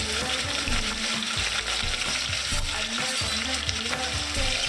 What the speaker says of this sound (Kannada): ಚೆನ್ನಾಗಿ ರೋಸ್ಟ್ ಮಾಡ್ಕೊಳ್ಳಿ